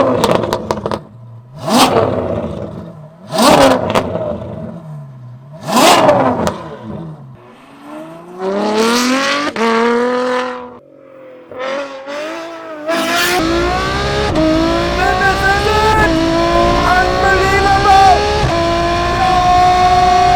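Novitec Ferrari F12 engine heard from outside: a series of sharp, loud revs, each rising and falling in pitch, then a longer sustained roar rising at the end.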